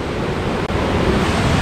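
A waterfall at Cold Brook Falls roars as a steady, loud, broadband rush of falling water, continuous and close for the whole stretch with only a momentary dip near the middle.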